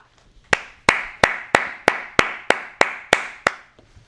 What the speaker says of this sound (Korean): 박수 한번 주시지 않으시겠습니까?